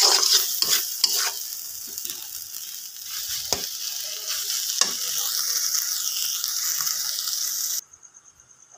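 Dried fish (shutki) fries with garlic paste in a pan, a steady close hiss of sizzling with scraping stirs and spatula knocks, the frying stopping abruptly near the end.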